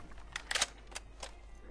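A magazine swap during a reload in the tactical shooter Rainbow Six Siege: a few quiet mechanical clicks and clacks, soft and brief, with no talking.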